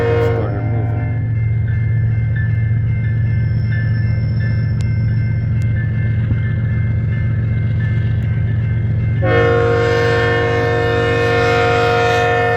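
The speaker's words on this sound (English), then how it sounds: "Eastbound loaded coal drag here. Started moving." An eastbound loaded coal train starts moving under a constant loud diesel engine rumble and drone, and a strong tonal horn-like blast cuts in near the end.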